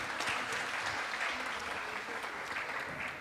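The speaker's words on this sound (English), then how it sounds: "We can give a big round of applause welcoming him." An audience claps to welcome a pediatrician and lifestyle physician onstage at a Sunday program, sustained dense applause that stays loud and even throughout, with no voices over it.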